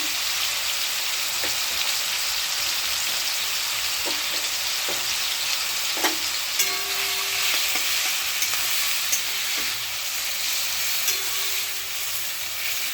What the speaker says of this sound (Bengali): একটু ভাজা ভাজা হবে ভালো করে ভেজে নিতে হবে